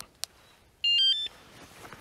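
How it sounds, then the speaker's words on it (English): A short electronic beep chirp from a Yamaha FZ-07 / MT-07 motorcycle alarm being armed, a quick burst of tones lasting under half a second, preceded by a small click, otherwise quiet. "It'll beep once to tell you that it's armed."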